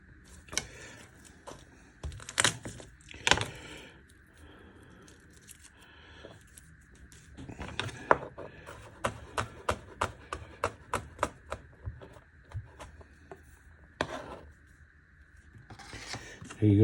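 Garlic for a chicken and mushroom pie is crushed and chopped on a board, with irregular sharp knife taps and crunches in quick bursts, close and dry, with a faint voice now and then.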